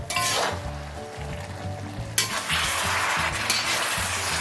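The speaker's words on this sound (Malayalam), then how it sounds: "ഇത് നമുക്കൊന്ന് ഇളക്കി കൊടുക്കാം." Keema biryani gravy being stirred in a pot, a steady sizzle broken by scraping spoon strokes, with a sharp clank of metal partway through; no talking.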